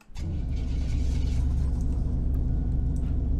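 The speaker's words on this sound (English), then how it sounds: "is this the idle sound they're talking about?" A Buick GNX engine in a video game cold-starts, then idles with a low, steady rumble, close and continuous.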